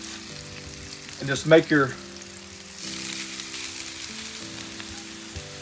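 Hash browns fry in butter and avocado oil on a flat top grill, a steady low sizzle with a burst of scraping in the middle, while a person speaks briefly.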